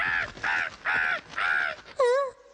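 Cartoon crow cawing in four harsh, evenly spaced calls, followed by a higher warbling squawk, loud and close with no talk over it.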